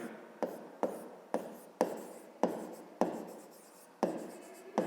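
Handwriting in a fifth-grade maths exercise: a series of short scratchy pen strokes, about ten distinct bursts at an irregular rhythm, close and fairly quiet with no talk.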